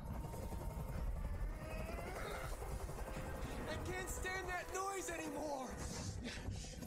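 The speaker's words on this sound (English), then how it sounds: "Tell that helicopter to get out of here" Helicopter hovering in the video game Detroit: Become Human, a steady low rotor thrum and rumble running throughout, with game voices talking over it in the middle.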